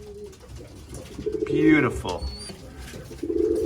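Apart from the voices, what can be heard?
young pigeon cooing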